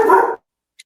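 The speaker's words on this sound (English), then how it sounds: "Oh, there's my dog." A single dog bark, close and fairly loud, ringing out briefly at the start and then cutting to near silence, with a faint high click at the end.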